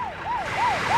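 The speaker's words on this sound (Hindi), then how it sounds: "बॉस, एम्बुलेंस है, मुझे लगा पुलिस है।" An ambulance siren wails in repeated rising-and-falling sweeps, about three cycles in quick succession, loud and close over a steady background hum.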